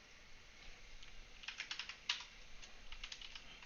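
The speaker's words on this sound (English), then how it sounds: "I typed in su slash, enter my root password, and now I'm root." Computer keyboard typing while setting up a Linux template in Proxmox: a quiet run of quick clicky keystrokes, sparse at first, then bursts of rapid taps with a sharper key strike midway, alone with no voices.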